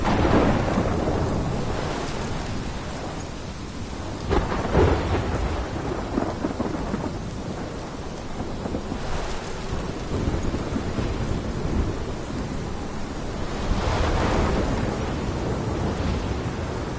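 Thunderstorm with rain in the video game Life Is Strange: heavy steady downpour with rumbling thunder swelling in several rolling peaks, loud and continuous throughout, no voices.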